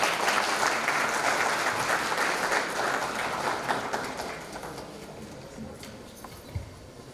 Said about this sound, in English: Can you please give us a round of applause for the speakers?